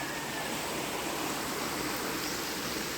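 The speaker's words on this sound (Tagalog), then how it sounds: "Kaya ngayon malakas yung tubig." Fast-moving water rushes continuously, a loud, steady roar of a stream swollen after recent flooding, close by on a farm, with no other sounds.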